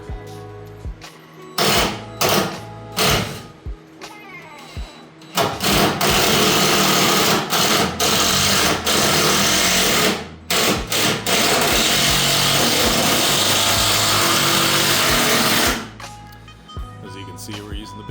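Structural screws driven into wood with a power driver during a demolition job: a few short bursts, then two long steady whirring runs, each ending in clunks, loud and close, with faint talk in the gaps.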